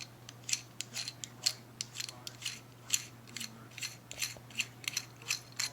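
A metal lightsaber pommel being twisted loose by hand gives a rapid series of close clicking, ratcheting thread sounds in an even rhythm with no talking.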